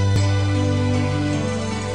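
A salsa song plays as steady tonal music with sustained low notes and harmonies, a brief click near the start, no talking over it.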